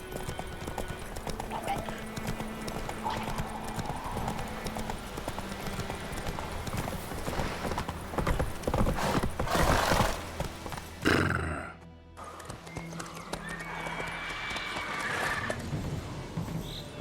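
Hooves clip-clop steadily as a horse runs in The Witcher 3 open-world game, set under a busy game soundscape with brief shouting voices and a sudden whoosh-like break near the middle.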